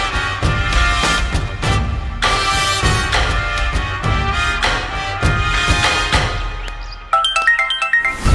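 A melodic phone ringtone plays loudly and continuously as a mother's call comes in, a repeating tune of bright tones over a steady beat, ending in a quick, chiming run of higher notes.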